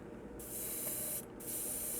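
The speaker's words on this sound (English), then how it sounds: "We're just going to flush the paint that's inside the airbrush." An airbrush being flushed clean of paint gives two loud, steady hissing sprays separated by a short pause, close and with no talk.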